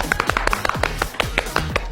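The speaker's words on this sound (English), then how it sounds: "Snaps, not claps." A small group snaps their fingers instead of clapping, a quick irregular scatter of sharp, dry clicks that overlap closely and nearby for about two seconds.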